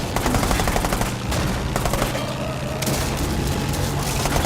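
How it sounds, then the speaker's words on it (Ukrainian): Heavy gunfire in the video game Uncharted 4: A Thief's End, with dense automatic bursts and booming shots layered continuously and loudly over a vehicle chase, with no pause. "Продовжуй стріляти."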